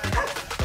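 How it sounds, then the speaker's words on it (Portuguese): A loose dog at an outdoor field gives two short, close barks about half a second apart, over a busy background. "Caramba, Iago, o cachorro tá solto, Iago!"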